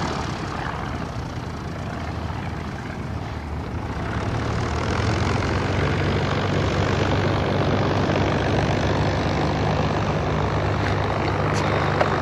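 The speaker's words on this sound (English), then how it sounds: "So far, Dad has made about 10 flawless landings." A small propeller airplane lands at French Valley airfield, its engine a steady, loud, continuous drone that rises slightly partway through and holds to the end, with no talk.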